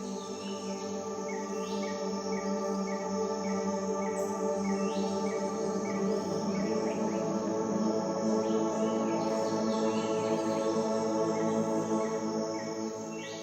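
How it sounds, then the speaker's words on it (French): A dense, steady wash of chirping birds and buzzing insects fills a lush outdoor ambience, continuous and even with no voices. "Je vous entends pas, il y a trop d'oiseaux là."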